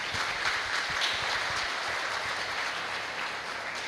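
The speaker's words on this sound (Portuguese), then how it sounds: "uma salva de palmas ao nosso diácono" A church congregation at Sunday Mass gives a round of applause for the deacon, a steady, even wash of many hands clapping, continuous and moderately distant in a reverberant space.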